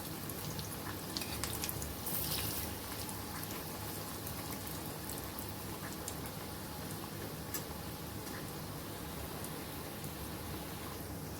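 Layered aluvadi colocasia leaf rolls frying in hot oil, giving a steady, close bubbling crackle dotted with tiny pops and ticks that runs unbroken throughout.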